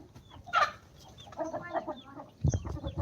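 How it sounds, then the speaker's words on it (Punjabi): Chickens clucking nearby, a sharp burst early on and a lower cluck near the end, with soft farmyard background noise between. "ਇੱਕ ਬਈ ਆ ਮੁਰਗੀ ਦਾ ਬੱਚਾ ਕਾਲੀ ਮੁਰਗੀ ਦਾ ਆ ਦੇਖੋ"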